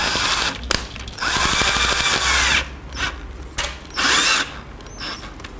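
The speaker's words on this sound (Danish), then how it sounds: "Så jeg tager min boremaskine, og så sætter jeg de 2 stykker ståltråd" An electric drill whirs in bursts while twisting two pieces of steel wire, revving up and cutting off several times, with mechanical rattling between runs.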